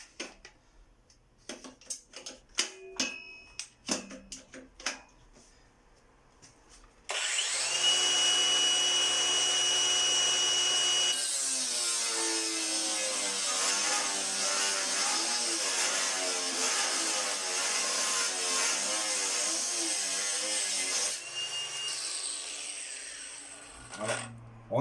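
An AEG 18V brushless angle grinder cuts through 14 mm solid steel bar, a loud sustained whine under heavy load lasting most of the stretch, preceded by scattered taps and handling knocks and ending abruptly.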